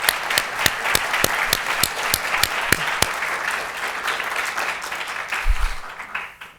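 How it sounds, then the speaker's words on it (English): Audience applause at a roundtable on Caribbean contemporary art opens with a few sharp, distinct claps that thicken into a steady wash and then taper off, with a low thump near the end. "round of applause for these guys."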